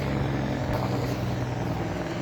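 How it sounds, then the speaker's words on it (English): A loud truck rumbles past close by during a walk in cold wind and rain, its heavy, steady low roar blending with gusty wind noise throughout. "Oh, that's a loud truck."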